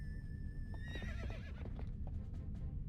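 Horse whinny from the Zelda video game, a brief rising neigh over steady loud game background music, with faint clip-clop beneath.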